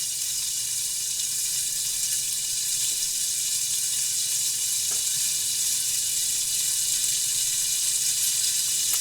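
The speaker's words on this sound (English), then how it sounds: "So, see if I'm burning my bacon." Bacon frying in a pan gives a steady, even high hiss of sizzling, close and unbroken throughout, with no voices.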